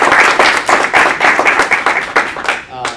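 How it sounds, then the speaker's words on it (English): An audience at an evening board meeting applauds a guest with brisk, loud clapping close by, steady for a few seconds before tapering off as a voice comes in at the end. "Let's give her a round of applause."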